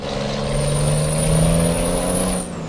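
A truck roars past close by in a loud, steady engine rush with a high whine that drops in pitch as it moves away at the end.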